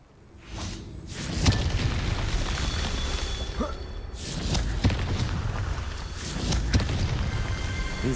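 Explosive Confringo spell blasts from the video game Hogwarts Legacy: several booming bursts and whooshes, loud and close, over a continuous dense rumble of game action.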